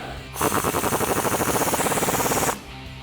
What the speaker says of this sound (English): grab a 14mm socket and wrench. Get that all lined up and tighten it down